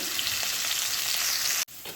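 Bitter gourd pieces fry in hot oil in a wok, a steady dense sizzle filling the whole stretch, briefly cut off near the end before the crackle resumes.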